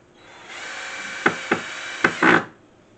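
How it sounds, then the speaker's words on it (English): A power tool runs steadily for about two seconds while fitting new knobs onto kitchen cabinets, with several short sharp bursts near the end as it bites in. "I'm using power tools"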